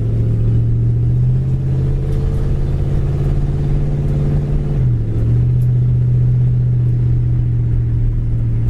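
A 1964 Ford Galaxie engine drones steadily while the car cruises at about 35 to 40 mph, with a loud, continuous low hum and a slight dip in pitch midway, with no talking.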